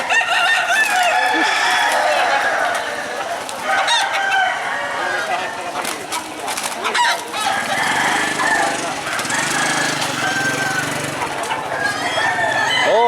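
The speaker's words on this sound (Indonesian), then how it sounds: "Oke, itu dites dulu ya ayam jagonya" Roosters crow repeatedly and hens cluck at the Bolu chicken market in Toraja, loud and overlapping, with a busy crowd and engine noise throughout.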